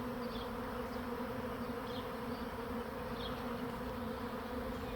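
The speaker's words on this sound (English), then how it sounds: "we're starting to get more and more bees right at the branches here" A honeybee swarm moves into a backyard swarm trap among branches, a dense steady buzzing from many bees, close and continuous with no talk.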